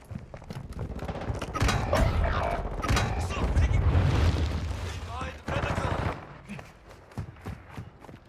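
Gunfire crackles in Call of Duty: Modern Warfare II as dense rapid shots mix with heavy booms and explosions, loud and continuous, with voices underneath before it thins out at the end.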